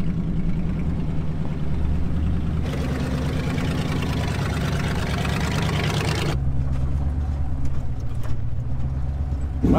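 Wrecker truck engine running, a loud, close, steady rumbling idle that rises in intensity for a few seconds, then settles back to a lower, rougher tone.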